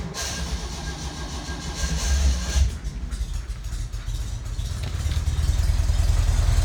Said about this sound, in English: let me start this thing up